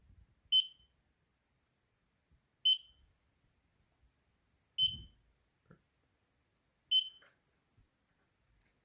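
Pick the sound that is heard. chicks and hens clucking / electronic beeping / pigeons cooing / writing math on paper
electronic beeping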